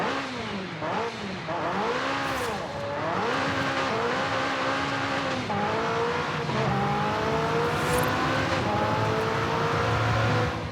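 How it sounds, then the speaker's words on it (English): A McLaren 765LT in Forza Horizon 5 revs loudly and continuously, its pitch sweeping up and down through repeated throttle blips before settling into a sustained high-revving drone, close and dominant with no talk. "I quite like the sound of that McLaren"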